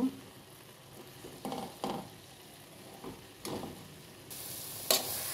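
Greens with a pinch of turmeric being stirred in a frying pan, a soft steady sizzle broken by several scraping strokes of the spoon, close by, with no talking.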